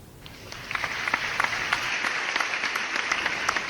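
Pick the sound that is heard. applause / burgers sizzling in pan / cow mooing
applause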